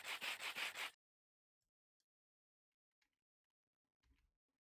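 Sandpaper sanding in a modded Minecraft game: three or four quick, rhythmic rasping strokes in a short burst, then near silence with a few faint ticks and a soft low thump near the end.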